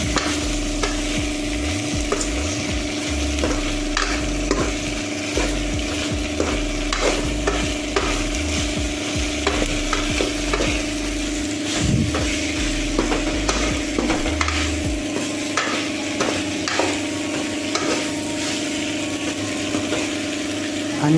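Potatoes, beans, broad beans, tomato and onion stirred in a hot pan, with steady sizzling frying under repeated scraping strokes of a spoon, close by and uninterrupted.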